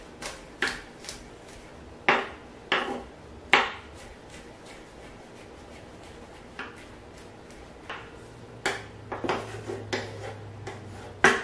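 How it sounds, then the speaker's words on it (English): A knife mincing a garlic clove on a cutting board, irregular crisp taps coming in short clusters, fairly close and moderately loud, with quiet gaps between chops. "The next thing I want is a garlic clove. And just mince that up."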